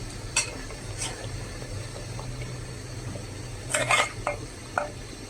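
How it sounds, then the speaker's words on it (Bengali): Precooked meat goes into a pot of simmering halim and is stirred, a low bubbling sizzle punctuated by occasional clinks and scrapes of a spoon against the metal pot. "এখন আমি এর ভিতরে আমার মাংসটা দিয়ে দিব।"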